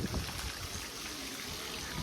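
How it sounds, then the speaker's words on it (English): Heavy rainwater running down a road in steady sheets, a continuous close-up trickling and rushing wash with no breaks or voices. "Very heavy rain, just you can see it's just running all the way down from the road"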